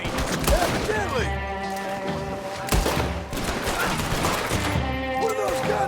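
Gunfire from guns in Red Dead Redemption 2, loud repeated shots cracking through a busy game scene with music and effects, voices talking over the action.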